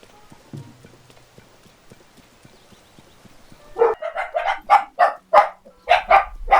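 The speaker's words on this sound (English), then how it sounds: "Puppies are barking." Dogs bark in quick, loud, repeated bursts, roughly a dozen sharp yelps in a row, in the Zelda: Tears of the Kingdom video game, after a few seconds of quiet game ambience with soft clicks.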